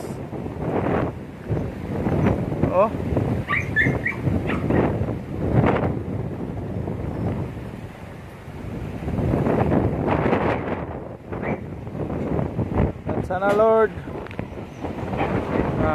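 Strong gusty wind during a typhoon buffets the microphone in uneven surges, with people talking over it throughout and a brief whistle-like tone near the end.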